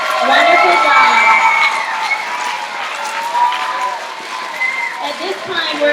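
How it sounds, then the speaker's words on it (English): A live audience at a TEDx event applauds its presenters, a sustained, loud wash of clapping with some cheering that eases off midway then swells again. "let's give a round of applause to all of our awesome presenters"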